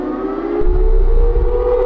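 Bomb siren in the Security Booth video game, a loud, steady wailing tone that rises slightly in pitch and sounds alone for about two seconds.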